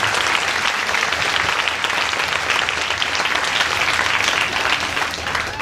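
Concert audience at Sargé-lès-Le-Mans in 2022 applauds a performer named Xavier, a dense, continuous wash of many hands clapping at a steady loudness for several seconds with no speech.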